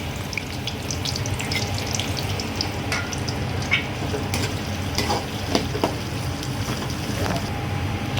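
Onions sizzle and crackle in hot oil, a steady frying hiss with occasional pops and stirring scrapes.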